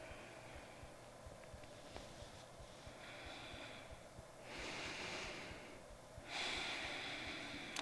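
Slow, audible breaths during a trauma-informed yoga balance pose, a few long airy inhales and exhales rising and falling softly nearby against a quiet room.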